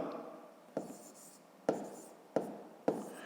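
Numbers are written by hand for long division: soft pen or pencil strokes scratch on paper in several short bursts, each starting with a light tap, quiet and close.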